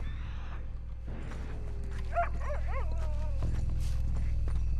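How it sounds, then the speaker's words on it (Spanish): A dog barks a few times in the Red Dead Redemption 2 game world, short yelping calls in the middle of the clip over a steady low ambient rumble, with faint hoof-like clopping and no talk. "¿Dónde está ese perro? Escucho un perro"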